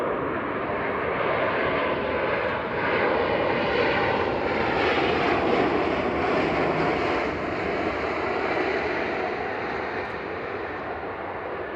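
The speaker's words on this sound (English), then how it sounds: "Touching down now, though, is Ryanair from Brussels." A Ryanair jet from Brussels touches down at Manchester Airport, a broad steady engine roar and rushing noise heard from a distance, swelling slightly in the middle and holding for about twelve seconds, no voices.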